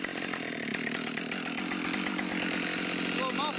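A Husqvarna chainsaw, a 572XP or 462 with a 36-inch bar, runs steadily at high revs with a dense continuous snarl, loud and close from start to end.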